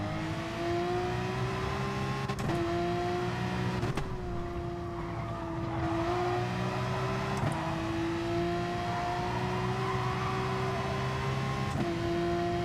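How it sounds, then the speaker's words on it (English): A race car engine in a video game drones and shifts pitch while tyres squeal in a long sustained whine crossing a hill, close and steady, with brief gear-change breaks. "You can hear as I'm going across the hill there, you can hear the tyres squealing."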